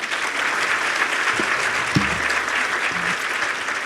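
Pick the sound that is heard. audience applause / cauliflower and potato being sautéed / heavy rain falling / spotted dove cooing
audience applause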